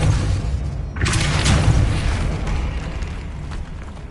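A Depulso spell cast in Hogwarts Legacy, a single forceful whooshing burst that swells and then fades slowly over a steady background rumble.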